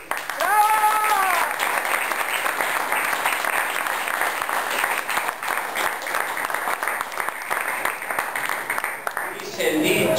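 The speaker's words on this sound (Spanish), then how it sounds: "un fuerte aplauso para Walter La Paz" An audience at a carnival gathering applauds warmly for about ten seconds, a sustained, fairly loud clatter of many hands, with a voice heard briefly at the start and again at the end.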